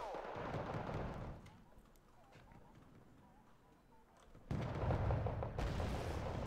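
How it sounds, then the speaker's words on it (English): Machine gun fire from M113 armored vehicles in the Wargame Red Dragon real-time strategy game, a rumbling burst of distant gunfire and battle noise that dips midway and then swells loud again, with voices talking over it. "withering machine gun fire coming in from the M113s"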